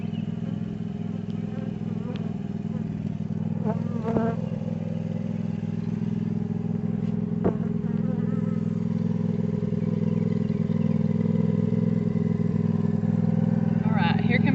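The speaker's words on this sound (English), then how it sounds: "here comes Daddy on the tractor" A heavy tractor engine drones steadily at a low pitch, holding throughout with occasional clanks, while a person talks intermittently over it near beehives.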